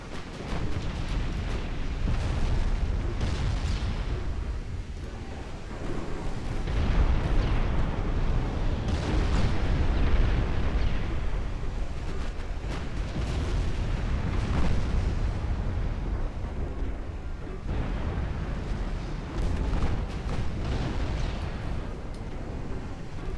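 Heavy naval gunfire in Damn the Expense during a Greek extended campaign, with deep booming salvos rolling one after another at close range and a constant thunderous rumble across the whole stretch, no speech.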